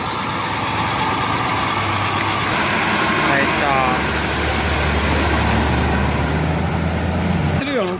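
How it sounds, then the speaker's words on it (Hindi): An old army S model vehicle's engine idles with a steady low rumble close by in a mountain village, while someone talks over it. "ये देखिए भाई पुराने जमाने की गाड़ी एस मॉडल आर्मी वालों की।"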